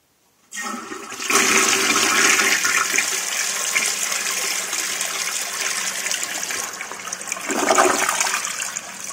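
A 1974 Briggs toilet flushes loudly after a brief silence, a sustained rushing gush of water that carries on steadily and then surges again near the end as the bowl refills, with no one talking.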